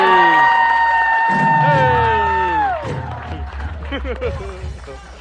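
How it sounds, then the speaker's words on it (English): A loud crowd at a Samoan Flag Day celebration in Independence, Missouri cheers and whoops, with a strong sustained voice over the noise that fades into a rougher mix of shouts and clapping. "I want another big round of applause."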